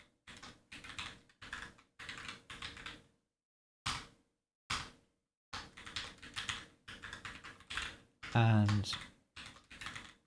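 Bursts of computer keyboard typing come in quick clustered clicks with short pauses between them, close and fairly quiet, with a single spoken word.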